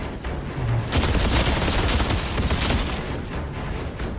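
Gunfire in the video game Outriders comes as a dense, loud volley of rapid shots that swells after a quieter start and then tapers slightly, with no voices.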